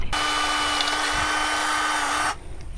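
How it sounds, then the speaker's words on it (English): A power drill whines at a steady high pitch for about two seconds while boring into a DIY solar panel ground mount outdoors, then stops abruptly. "Now, gonna get our drill on real quick."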